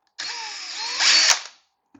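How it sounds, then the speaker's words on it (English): Power drill fitted with a depth stop boring into hard walnut for a handrail: one steady whirring run of about a second and a half that rises in pitch and strain near the end before cutting off, loud and close, with no talk. "drill here with the stop on it"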